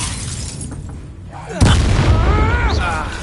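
A Levioso spell cast in Hogwarts Legacy bursts out as a loud, sudden whoosh-boom halfway through, followed by a sustained magical rumble with a whirring, warbling shimmer.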